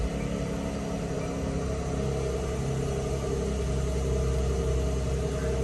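A 2020 Mercedes C43 AMG idles steadily after starting, with a continuous deep engine rumble and exhaust drone that stays loud and even throughout, and no talking.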